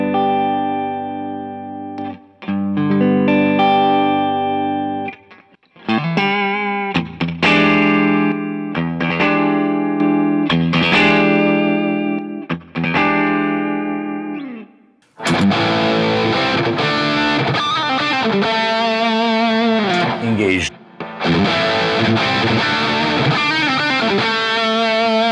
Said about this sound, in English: You will hear a little bit later on some more high gain sound.